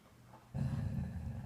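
Ventura, a sleeping dog, starts a deep, continuous growl that rumbles low and close after a brief quiet moment.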